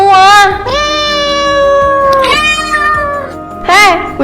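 A cat meows loudly and close up, four drawn-out, rising and falling cries one after another indoors in a home.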